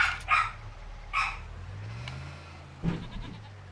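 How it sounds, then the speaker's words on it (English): A farm dog gives a few short barks, two close together at the start and another a moment later, then one more toward the end over a low engine hum from a farm vehicle. "Dog decided to bark at something."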